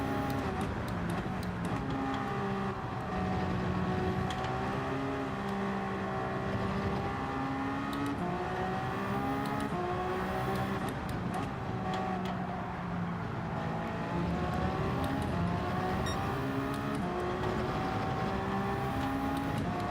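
Race car engines from the video game Gran Turismo 7 drone continuously during a multi-class endurance race at Spa, their pitch rising and falling through gear changes at a steady, moderate level.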